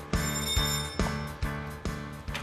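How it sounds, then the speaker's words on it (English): A doorbell rings at a townhouse in Jávea, Spain, giving about six bright, evenly spaced chimes, close by and heard alone. "Go on then, ding dong."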